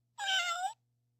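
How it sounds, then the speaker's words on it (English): A cat gives one clear, close meow lasting about half a second against near silence. "Cat."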